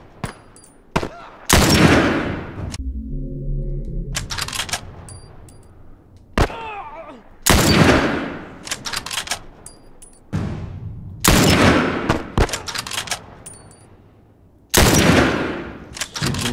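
Bursts of gunfire in The Last of Us Remastered, several loud, sharp volleys and rapid strings of shots spaced across the stretch, with quieter lulls of low rumble between them.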